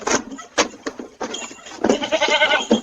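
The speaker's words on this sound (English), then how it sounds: "Hey, goat, that's not food" A goat bleats close to a front doorstep while it chews a doormat. Several loud, harsh bleats come in irregular bursts, with a longer run of bleating near the end.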